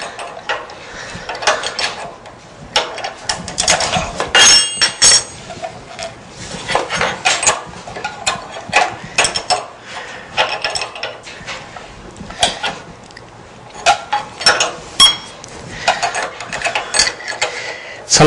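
Someone swaps the bit on a Shopsmith SS103 overarm router, producing a string of close metallic clinks, clicks and ratcheting taps at an irregular pace, with short pauses between bursts and no talk.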